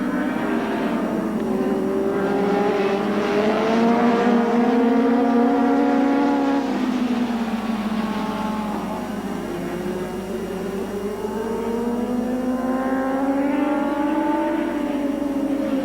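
Kawasaki superbikes in a 1983 track race roar past, engines rising and falling in pitch as they approach and pull away, then a second wave builds toward the end, loud and continuous.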